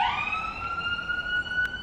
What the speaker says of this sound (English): I live in a city, so the sirens are always going off